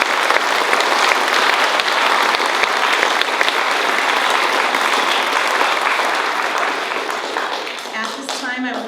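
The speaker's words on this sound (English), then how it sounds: "Audience, please help me give them all a big round of applause" An audience at the Washington County Fair queen contest applauds the contestants, a dense, loud burst of clapping that holds steady before tapering off as a voice begins at the end.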